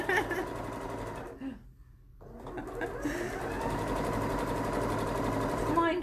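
A sewing machine stitches around a pocket on a French seam, running steadily and close with one short pause near the start, while a person talks over the motor.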